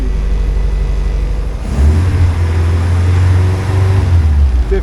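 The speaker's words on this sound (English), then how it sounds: "when we rev it, it goes up to 60" A 1980 Triumph TR7 engine revs up and holds at a raised, steady pitch after a lower idle, loud and close with no talking.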